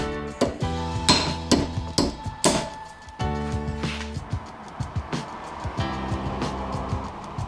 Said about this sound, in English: right now I'm just installing that snap ring, couple hammer taps and it goes right on.